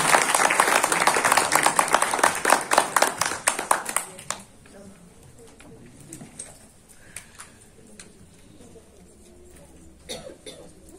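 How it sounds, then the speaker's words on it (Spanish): Audience applause at a regional tourism forum on gastronomy, a dense burst of clapping for about four seconds that thins to scattered claps, with coughs and murmuring in a quiet room afterward. "un fuerte aplauso entonces a Edith Elena Hernández Sosa"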